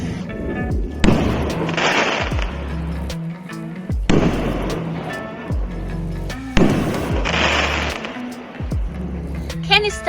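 Canister shell fireworks burst in three loud, booming explosions spaced a few seconds apart, each with a crackling tail, and voices are heard between them.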